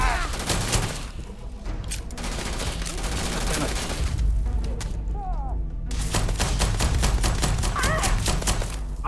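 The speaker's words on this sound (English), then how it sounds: "I'm shooting the damn ladder" Gunfire in Starfield aimed at a ladder: a loud, dense stream of rapid shots runs almost without pause, close and harsh, with a brief lull near the middle before the firing resumes.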